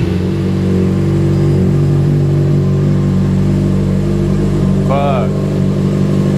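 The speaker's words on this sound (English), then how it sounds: "So we'll see what it sounds like with the silencer" A motorcycle fitted with a Two Brothers Black Series full exhaust and silencer idles and revs while still cold, a deep steady rumble with a brief rev swell partway through, recorded up close.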